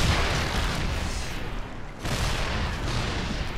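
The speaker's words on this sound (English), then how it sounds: "Low ground attack here with the siege tanks" Siege tanks firing in a StarCraft match: heavy, booming cannon blasts rumble almost continuously, with dense layered explosions and a brief dip before another round of loud impacts.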